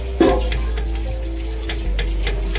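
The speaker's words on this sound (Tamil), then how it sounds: "ஸோ சீரக சம்பா மட்டன் பிரியாணி ரெடி ஆகுது பாருங்கள், வேறு லெவலில் ரெடி ஆகுது" Seeraga samba mutton biryani stirred in a cooking pot, a steady sizzle and frying hiss running throughout with a few soft scraping stirs and light clinks of utensil against the pot, close and continuous.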